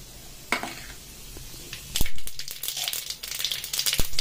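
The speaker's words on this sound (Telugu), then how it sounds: "ఇప్పుడు ఇందులోకి 1 టీ స్పూన్ అంతా ఆవాలు, కొద్దిగా జీలకర్ర వేసుకుంటున్నాను" Mustard seeds and cumin hit hot oil in a pan, giving sharp pops and a growing crackling sizzle, close and lively with scattered spits.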